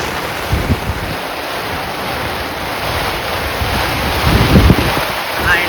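Heavy pre-monsoon rainstorm with strong wind at a shepherds' open-air camp, a loud steady roar of rain and wind with gusts buffeting the microphone throughout.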